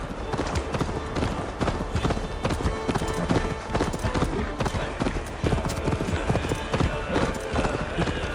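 Galloping horse hooves in the video game Assassin's Creed Valhalla, a fast steady clip-clop rhythm that runs throughout, close and loud over the game's background sound.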